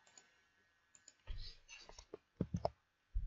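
A computer mouse clicks in a quick, close series of sharp taps with short pauses between them, alone with no talking.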